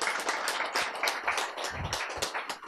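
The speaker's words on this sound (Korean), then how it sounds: "박수" Audience clapping during a lecture, a run of fairly close individual claps and taps at an uneven rhythm rather than a full ovation.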